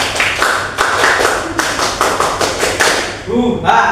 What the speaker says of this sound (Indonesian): Tepuk tunggal, ganda, tepuk pramuka